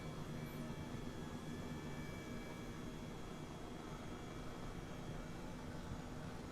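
Helicopter in Microsoft Flight Simulator, a faint, steady engine drone with a constant whine and broadband rushing noise, unchanging and alone with no talk.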